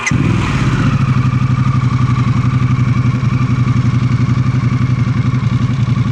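Motorcycle engine running steadily during an on-road riding lesson, a loud, close, even throb that holds at a constant pace with no talk over it.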